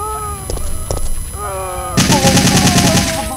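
Rapid automatic gunfire in the video game Resident Evil 3, a burst of quick rattling shots coming in after a couple of single reports, with a player talking over the game audio.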